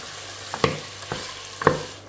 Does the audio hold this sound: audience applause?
no